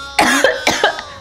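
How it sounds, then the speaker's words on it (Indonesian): Several coughing bursts from a person, harsh and close, with short gaps between them and no talking over them. "Batuk-batuk aku, geng."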